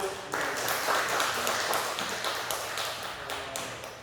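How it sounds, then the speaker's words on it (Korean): A church congregation claps for a member's birthday at the end of a Sunday service, a dense, steady patter of many hands that holds for several seconds before easing slightly. "박수."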